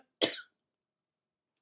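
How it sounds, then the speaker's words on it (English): A single short, close cough from a woman during a live card-reading stream, followed by near silence. "I should probably try and mute while I cough"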